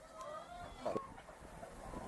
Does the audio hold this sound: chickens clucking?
yes